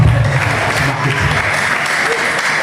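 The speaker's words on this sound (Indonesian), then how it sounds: "Tepuk tangan terus Pak" Loud, dense audience applause at an Islamic boarding school gathering, a steady wash of many hands clapping close by and filling the whole short moment without any talk.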